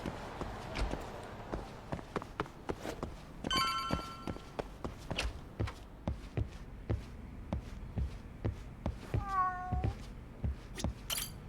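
A cat meows in the video game Lost Judgment, a couple of short calls amid regular clopping footsteps and ambient game sounds, with no talk over it.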